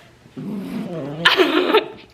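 A dog growls and snarls close by during gift wrapping at home, a low rumbling growl rising into a louder, sharper snarling burst before easing off.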